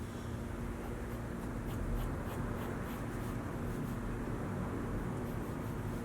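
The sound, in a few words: pencil drawing a fashion figure on paper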